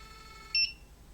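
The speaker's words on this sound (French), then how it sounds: "on a entendu le bip qui signale « Inutile d'insister, je n'irai pas plus loin »" A pyrography machine emits a single short electronic beep on reaching the end of its travel, clear and close against a faint background hum.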